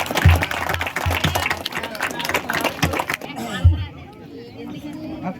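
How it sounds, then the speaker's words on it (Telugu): Audience applause at a rangoli competition prize distribution, a burst of clapping with crowd chatter and voices over it, dropping to quieter room noise near the end. "క్లాప్స్ కొట్టండి."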